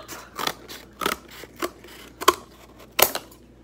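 Scissors cut cardboard into a cone shape for a second-grade volcano project, with about six crisp, close snips in an uneven rhythm.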